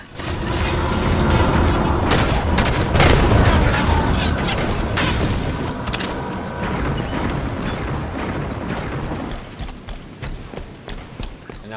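Loud, continuous gunfire and battle noise in the shooter game Halo 5 Guardians, a dense barrage of shots and booms that fades slightly toward the end.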